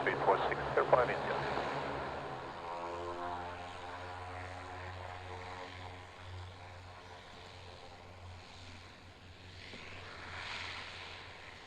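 Propeller aircraft taking off, a droning engine hum that holds steady and slowly swells, heard from inside with radio voices over it at the start.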